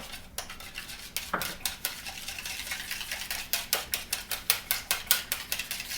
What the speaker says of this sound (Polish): teraz wlewamy nasze masło do tego naszego pojemnika z płynnymi rzeczami, proszę bardzo, i mieszamy